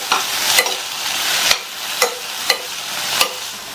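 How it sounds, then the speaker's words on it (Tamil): A spoon stirring coconut mixture into a bean and carrot stir-fry over a medium flame: steady close sizzling with four or five sharp scraping knocks of the utensil against the pan at uneven intervals. "நல்லா கலந்து விட்டுட்டு"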